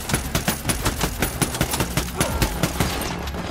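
Rapid automatic gunfire from a helipad in the tactical shooter Ghost Recon Wildlands, a steady run of loud, evenly spaced bursts throughout with a little voice underneath.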